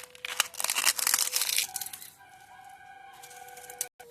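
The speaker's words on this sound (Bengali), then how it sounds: "পাঁপড়টা গুঁড়ো করে নেব।" Crisp papad is crushed by hand for papad chaat, giving a burst of dry, close crackling and crumbling for about a second and a half before it fades to quieter background tones.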